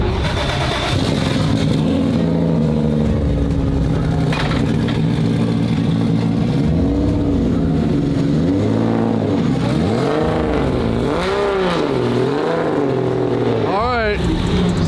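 A race car engine at a pro race event revs and roars steadily throughout, rising and falling in pitch as it accelerates, with voices talking over it.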